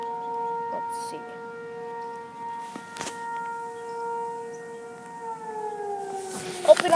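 A tornado warning siren wails at a steady, sustained pitch and then slides downward near the end. It sounds faint and fairly distant, with a few light knocks in the background.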